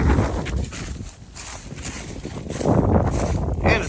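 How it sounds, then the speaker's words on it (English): Gusty wind buffets the microphone outdoors near a cornfield, rising and falling in loud rushing swells with a quieter lull in the middle. "it's going to be a little bit windy today, I think."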